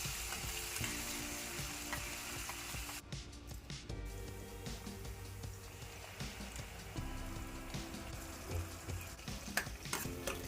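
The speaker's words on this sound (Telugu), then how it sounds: "1 స్పూన్ అల్లం వెల్లుల్లి పేస్ట్ వేసుకొని రోస్ట్ చేసుకోండి." A spoonful of ginger garlic paste roasts in a pan for Ambur biryani, frying with a dense, continuous sizzle and crackle close by, broken by a short lull and some faint stirring scrapes and knocks.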